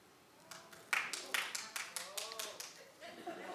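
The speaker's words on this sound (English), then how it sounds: "But clap if you think that this is a color thing." Scattered clapping from a studio audience builds into a handful of uneven claps with a chuckle or two, fairly quiet and sparse rather than a full ovation.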